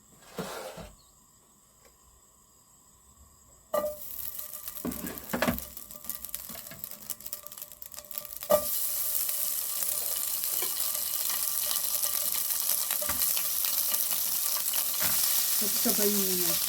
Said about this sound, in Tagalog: Lutuin natin yung ating ham.